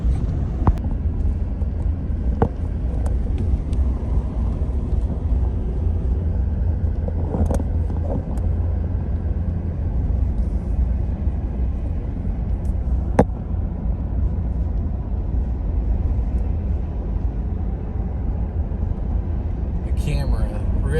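Car driving into Palo Duro Canyon State Park on a camping trip, a steady low road and engine rumble with cabin noise throughout, a few faint clicks, and occasional talk inside the vehicle.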